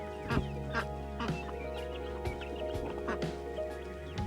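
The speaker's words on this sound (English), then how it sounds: "Those are mallards, which the males are brilliant emerald green heads on them." Mallard ducks at a quiet estuary quack in short, scattered calls over a steady low hum, fairly faint and spread across the scene.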